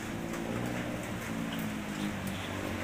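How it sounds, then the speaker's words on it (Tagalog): Steady rain falls in Tanay, a soft, continuous hiss with scattered drops, fairly faint and with no talking. "Bumagsak na ang ulan dito sa Tanay."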